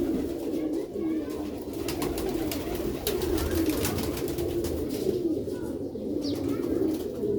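Pigeons coo in a repeated, soft, throaty rhythm at close range, steady over several seconds against a dull background, with occasional brief clicks and chirps but no clear speech.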